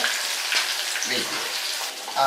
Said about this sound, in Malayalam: നമ്മുടെ മീൻ അവിടെ മൊരിഞ്ഞോണ്ടിരിക്കുന്ന സമയത്ത്